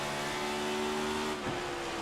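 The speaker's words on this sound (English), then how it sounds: "You can hear him downshift real quickly there" Race car in a sim racing game on the Richmond oval, a steady loud engine drone with a quick downshift blip near the end as it brakes into a turn.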